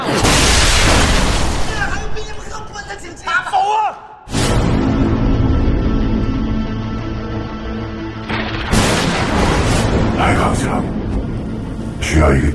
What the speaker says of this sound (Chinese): 炸弹马上就炸！